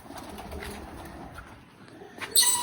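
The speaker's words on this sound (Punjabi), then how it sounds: "ਕਬੂਤਰਾਂ ਨੂੰ ਦਾਣੇ ਪਾਉਣ" Pigeons coo softly on a rooftop while being fed, over a steady windy rumble, with a sharper rustle or flutter near the end.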